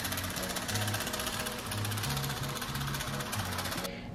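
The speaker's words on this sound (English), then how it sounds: "I'm cutting out the coffee cup shape." A power tool cuts out a coffee cup shape in a home garage, a loud continuous buzzing, rattling drone with pulsing low tones that runs steadily throughout and drops away at the very end.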